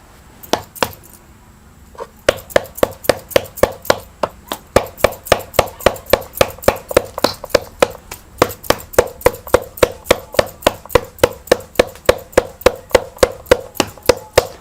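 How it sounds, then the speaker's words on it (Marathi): Hands repeatedly pat and slap bhakri flatbread dough, a fast, steady rhythm of sharp, close claps that continues without pause after a brief quiet start. "इकडं दुसरं आपण भाकरी थापून घेऊया"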